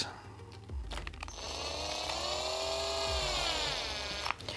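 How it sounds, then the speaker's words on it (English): A screwdriver driving screws into an RC car body shell, likely powered, heard as a sustained whirring drive tone lasting a few seconds with brief handling clicks before and after. "I now have to use the Phillips head on the screwdriver"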